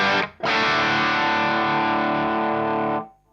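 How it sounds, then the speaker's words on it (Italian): An electric guitar plays through a Blackstar Series One Mk II amplifier on its overdriven channel: a brief opening hit, then a single thick, distorted chord that rings loud and full for about three seconds before being cut off. "questo canale lo vedo un po' come una via di mezzo tra il clean tirato e l'overdrive definitivo mega iper ultra"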